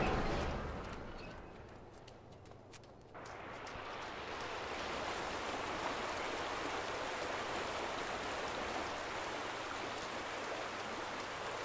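Water gushing out in The Vanishing of Ethan Carter, a steady broadband rush that swells louder after a brief dip, continuing evenly to the end with no talk over it.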